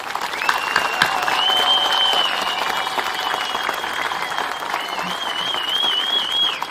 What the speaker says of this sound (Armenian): Շնորհակալ եմ իսկապես այս ծափահարությունները